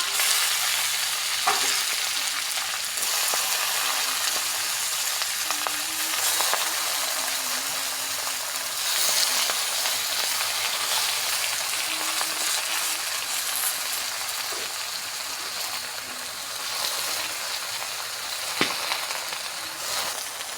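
Fresh Malabar spinach goes into a hot frying pan and sizzles steadily, with occasional stirring clinks and scrapes over continuous frying hiss.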